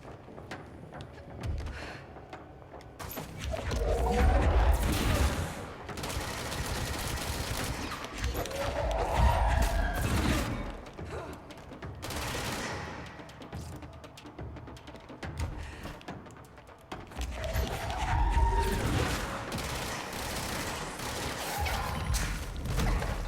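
An enemy's machine gun in Control rattles in repeated bursts of fire, loud and close, with a few dull thuds and impacts between the volleys and no talking.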